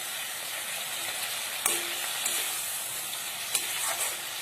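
Cumin and ground spice masala sizzle loudly in a hot pan for a village-style Assamese kuchia eel curry, a continuous close frying hiss with a couple of sharp stirring knocks.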